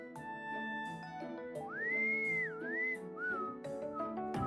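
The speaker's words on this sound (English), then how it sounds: "That innocent whistling isn't fooling anyone." A character in the video game Trails of Cold Steel whistles innocently, a clear, close, wavering melody that glides up and down over soft background music.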